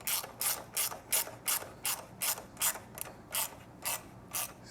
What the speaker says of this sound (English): So with your 6mm hex and 12mm wrench,